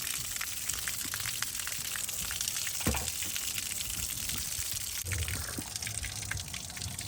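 Water gushes and splashes steadily out of an RV water heater drain outlet nearby, a continuous rushing flow with a few small knocks.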